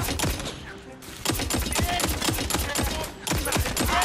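Sword Rifle gunfire in Tiny Tina's Wonderlands, a steady run of rapid, sharp shots that carries on with short pauses, loud and close, with light speech faintly underneath.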